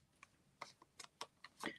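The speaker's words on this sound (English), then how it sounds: "I'm going to give them a good shuffle." A deck of oracle cards being shuffled by hand, heard as quiet, irregular papery flicks and riffles, each burst short and separated by brief pauses, growing slightly denser near the end.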